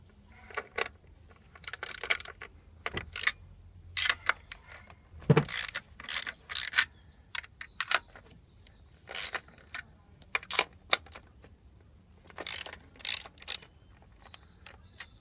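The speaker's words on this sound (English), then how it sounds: "Disconnect the wire and undo the 4 screws." Coil pack screws on a Corvette being undone with a ratchet, repeated bursts of quick clicking separated by short pauses, close and fairly quiet.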